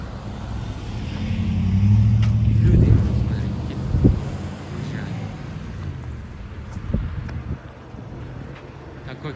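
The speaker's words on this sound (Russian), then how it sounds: "О, машина приезжает, посмотри." A car rolls up on a road in a rough neighbourhood near wheat fields, its low engine rumble swelling and then easing off under steady gusts of wind buffeting the microphone.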